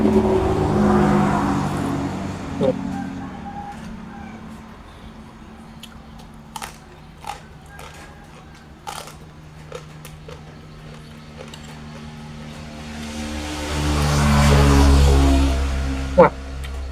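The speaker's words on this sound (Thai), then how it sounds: "รถแล่นหลายใช่ไหม" Traffic on a roadside passes by: a car swells up and fades early, then a louder vehicle roars past near the end, over a steady low hum with scattered clicks and ticks.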